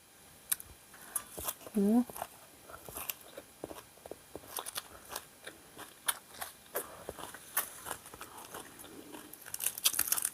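Someone eats spicy squid larb by hand with crisp fresh lettuce, producing close, repeated crunchy bites and chewing clicks, with a brief voiced sound early on.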